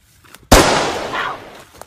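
A handgun goes off accidentally indoors, one sudden sharp loud bang with a brief decaying rush after it, close by, with faint sounds before and after.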